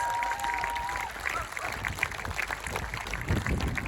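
A crowd applauds at a political campaign launch for an independent candidate, with steady clapping and some cheering throughout, fairly distant and moderately loud.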